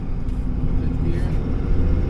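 A Dodge Ram 3500 truck with a G56 manual transmission cruises in fifth gear, heard from inside the cab as a steady, loud, low engine and road rumble.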